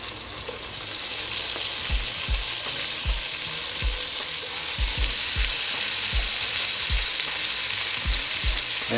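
Chopped cabbage frying with salt pork, a loud steady sizzle running throughout, punctuated by regular low thumps and scrapes as the pile is stirred in the pot.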